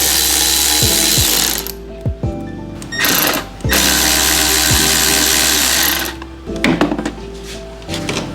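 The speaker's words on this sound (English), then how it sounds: "Next is a 7mm socket for your hose clamps to remove the inlet hose." A 7mm socket on a ratchet loosens the hose clamps on the inlet hose of an Audi B8 A4, heard as a steady whirring run, then bursts of near, loud mechanical noise with brief clicks and knocks between them.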